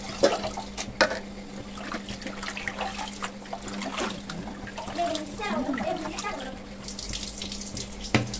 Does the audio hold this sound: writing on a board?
no